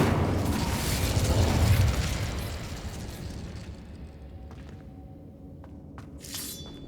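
A fire spell cast in Hogwarts Legacy bursts out with a loud crackling whoosh and roar, then dies into a softer rumbling tail, with a few sharp magical chimes and pops afterward.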